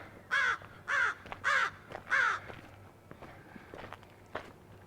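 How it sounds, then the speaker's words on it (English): A crow caws four times in a steady series, loud and fairly close, during an outdoor walk in Three Forks, Montana, followed by quieter footsteps and faint street ambience. "It's a crow."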